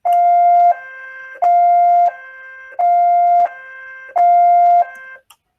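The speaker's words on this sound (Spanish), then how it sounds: "Mientras yo presione este pulsador, va a sonar la sirena." Electronic siren on a lab workbench wails in four loud, steady bursts, each switching between two tones and stopping sharply when a push button is released, with short silences between.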